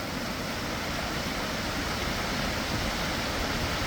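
Waterfall on a hiking trail near Lake Superior, a dense, steady roar of falling water heard up close with no break and no voices.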